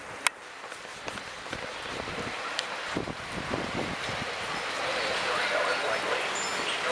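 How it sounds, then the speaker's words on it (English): Strong wind during a windstorm in Tacoma, Washington, a steady broadband rush that gradually builds louder, with faint rustling, a few light knocks and a voice speaking. "The wind is messing with my weather radio signal."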